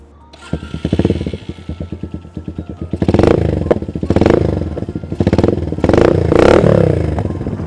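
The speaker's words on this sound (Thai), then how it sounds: "เดี๋ยวเรามาฟังเสียงท่อกันหน่อยนะฮะ" A 2015–16 Stallion CT 150 motorcycle with a custom cut rear end idles nearby, then its exhaust rises in several loud revving bursts with throttle blips and mechanical clatter between them.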